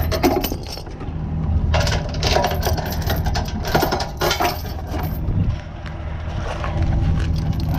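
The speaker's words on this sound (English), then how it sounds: "Always hook up your tow chains." Metal tow chains being hooked from a travel trailer to a truck, a steady run of clinking, rattling links and small metallic clacks, close by and continuous, with no talking.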